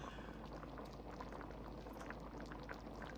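A pot of mung bean stew simmers and bubbles steadily while spinach goes in, making a faint, continuous fizzing burble close by with no talking.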